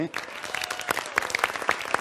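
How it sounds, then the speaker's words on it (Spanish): Conference audience applauding after a call from the stage, sharp individual claps scattered through a moderate, fairly distant round of applause, with speech mixed in. "Un aplauso, por favor."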